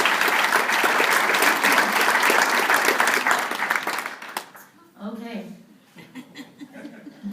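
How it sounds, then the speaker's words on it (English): Audience applause at a volleyball national championship ring ceremony: a loud, dense burst of clapping from a crowd lasts about four seconds, then fades into scattered chuckles and voices talking. "So Sam Vogel, give him a round of applause."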